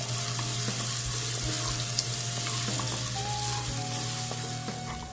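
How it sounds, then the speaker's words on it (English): Chopped shallots sauté in oil with cinnamon, cardamom and a bay leaf, a soft, even sizzle running steadily under a low background hum, with a knock at the very end. "Then add chopped shallots, saute well till you get a nice golden color."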